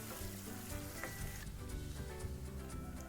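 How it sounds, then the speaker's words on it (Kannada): Chopped onions frying in a pan for North Karnataka style mango girmit, a steady close sizzle with no talk. "ಈರುಳ್ಳಿ ಸ್ವಲ್ಪ ಗೋಲ್ಡನ್ ಕಲರ್ ಬರುವವರೆಗೂ ಫ್ರೈ ಮಾಡ್ಕೊಳ್ಳಿ."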